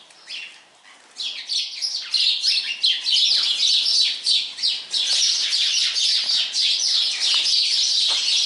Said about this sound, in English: you can tell that spring's getting close when you hear those stupid birds like that